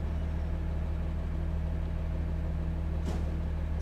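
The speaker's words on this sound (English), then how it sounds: "So it's going to get a little loud because of the trash truck." Garbage truck engine rumbling outside a Buddhist temple, a steady low idling drone, continuous and moderately loud, with a brief faint clank near the end.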